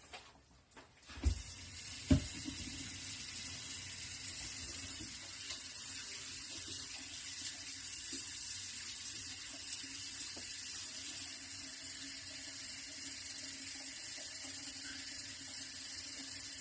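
Tap water runs steadily and continuously into a cooking pot for chicken pot pie, a constant close hiss of flowing water after a couple of brief knocks at the start, with no talking.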